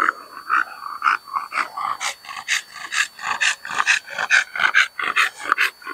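Young Boston bully puppies growl, snarl and pant in rapid, overlapping bursts close by, a steady run of rough little vocal pulses with no talk.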